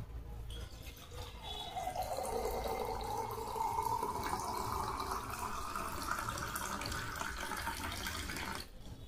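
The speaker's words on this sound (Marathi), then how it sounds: "आता त्यामध्ये आपण स्वच्छ पाणी टाकून घेऊ" Clean water pouring into a ritual pot for a Navratri ghatasthapana, a steady close splashing trickle that runs for several seconds and stops abruptly near the end.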